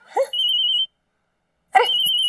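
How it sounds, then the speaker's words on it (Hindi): A telephone rings loudly and close by in a home: two electronic trilling rings separated by a short silence, with no voices. "अरे फोन आ रहा है भाभी का।"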